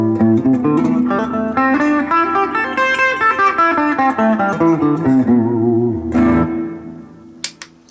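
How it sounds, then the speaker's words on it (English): An AIO Wolf WLP-750T electric guitar on its neck pickup, clean with a little reverb, plays a flowing melodic line with a warm, rounded tone and a light reverb tail, with a few faint clicks near the end. "Neck pickup clean, maybe a little reverb."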